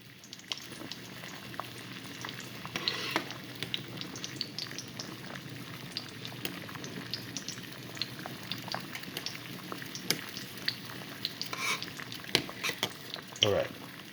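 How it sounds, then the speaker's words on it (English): A pot of water at a rolling boil for cooking ricotta gnudi, with continuous bubbling and crackling pops of varying loudness, close up and steady throughout, with no one speaking. "Okay, the water is boiling"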